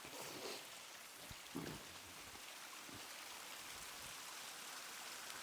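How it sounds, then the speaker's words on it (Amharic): A small waterfall fed by a mountain spring gives a soft, continuous splashing hiss, faint and steady throughout with a few brief louder splashes. "ፏፏቴ ነው። ሚኒ ፏፏቴ"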